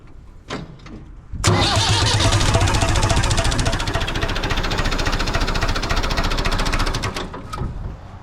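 A tractor's diesel engine with a newly fitted glow plug cranks after a short pause, then catches and runs loudly with a steady rough clatter for several seconds before easing off near the end.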